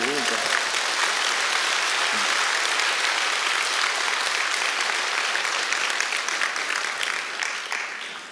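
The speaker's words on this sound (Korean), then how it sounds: "동의하시면 이렇게 표정만 굳세게 갖지 마시고 박수를 쳐야지." Lecture audience at a Korean special talk bursts into loud, dense applause that holds steady for several seconds and then tapers slightly at the end.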